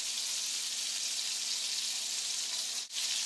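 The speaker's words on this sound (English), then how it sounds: "now we're going to let that reduce for just a few minutes" Wine sauce simmers and reduces in a pan, giving a constant close sizzle and bubbling hiss with a brief dip near the end and no talk over it.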